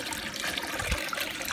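Water runs steadily through a 30-litre wet gold washing plant processing fine crushings, a soft continuous trickling and splashing up close with a brief gurgle partway through.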